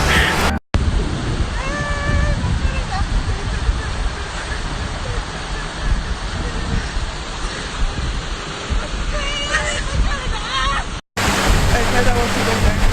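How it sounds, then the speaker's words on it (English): A Faroe Islands waterfall roars loud and steady from very close, heard from the middle of the falls as a continuous broadband rush with two brief cut-outs. "Not to bother anyone, but I'm on the middle of the waterfall."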